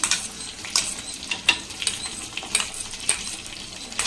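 Ground garlic paste hitting hot oil in a pan, a steady close sizzle and crackle with scattered stirring scrapes and clinks, no voices.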